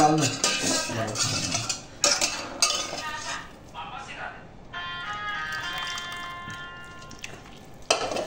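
A spoon clinks against a plate while serving sonamoog dal, with a few sharp metallic taps and scrapes under steady talk nearby.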